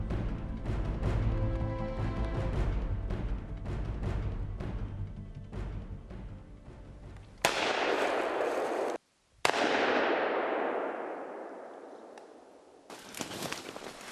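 Gunshots ring out during a wild boar hunt near a river in the Russian Far East: a couple of loud, sharp cracks with long decaying echoes after quieter rustling and footsteps.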